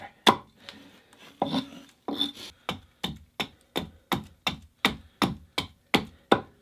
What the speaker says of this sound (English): What we're doing is gonna try to chop as far up to the line as we can here